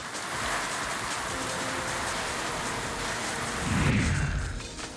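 Heavy monsoon rain pours steadily in Mulshi taluka, a dense, even hiss of downpour that holds constant and swells slightly near the end, with no voices.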